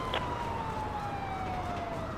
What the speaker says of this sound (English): Let's go ahead and shut our siren off